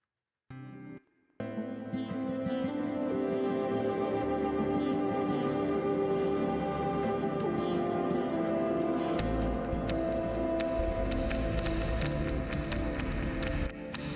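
Time-stretched instrumental track pulled from a song, a dense, sustained wash of layered tones that swells in after a brief gap and plays continuously, with a deeper low end entering partway through.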